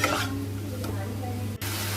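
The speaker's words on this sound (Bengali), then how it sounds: "এবার আদা কাঁচা লঙ্কা বাটাটা দিয়ে দেব আর কেটে রাখা টমেটোগুলোকে দিয়ে দেব। দিয়ে ভালো করে নেড়ে চেড়ে নেব।" A spatula stirs ginger and green chili paste with chopped tomatoes as they fry in a pan. The sizzle and scraping sound up close for a moment, with no one talking.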